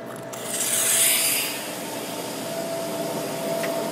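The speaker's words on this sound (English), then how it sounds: "the CDU sucks the air from the leak through the column of water and pumps it right out" A Chilldyne CF-CDU 300 cooling unit pump hums steadily while air is drawn from a leak through a water column with a hissing, gurgling rush that swells early, then settles into a continuous whir.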